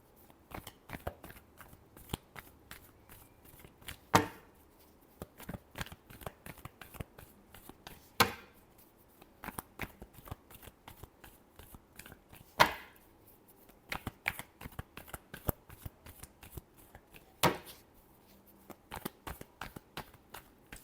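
Tarot cards are shuffled by hand in a steady run of quiet riffling bursts, with a few sharper snaps at intervals and no talk over it.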